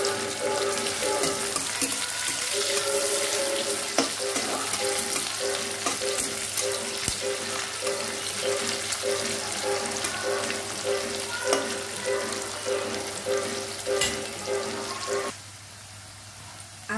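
Onion frying in a pan for an okra and potato bhujia, with a steady close sizzle and intermittent scraping stirs throughout, and the sizzle dropping away near the end.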